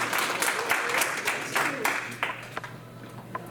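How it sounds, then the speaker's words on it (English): Community audience at a meeting about making Port Jervis a sunflower city applauds, a steady wash of clapping for a few seconds that thins out toward the end, with some voices underneath. "So good hand of applause."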